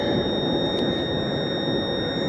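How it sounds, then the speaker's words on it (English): A metal detecting pinpointer gives a steady, continuous high electronic tone near the mic during an outdoor hunt that turns up iron, with no speech over it. "Sorry for the pinpointer noise."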